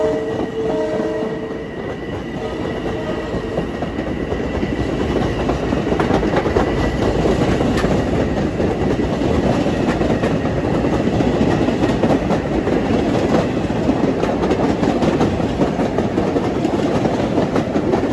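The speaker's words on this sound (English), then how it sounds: "that was a late-running 2350 from New York to Farmingdale" A late-running Long Island Rail Road electric MU train from New York to Farmingdale passes through Mineola station during the evening rush, a loud, steady roar of wheels and cars rolling by close at hand for the whole stretch.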